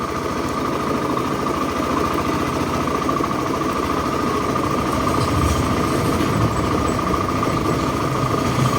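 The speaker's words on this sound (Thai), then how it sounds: "เครื่องยนต์กำลังทำงาน" Yamaha Fiore motorcycle engine idling steadily with its battery terminal removed, a continuous even mechanical hum and light vibration holding at a constant level throughout.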